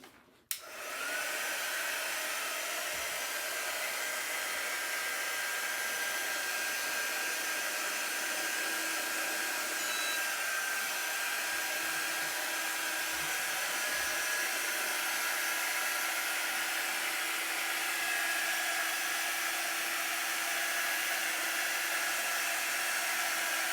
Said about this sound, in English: This is a heat dry tool. You can use your blow dryer.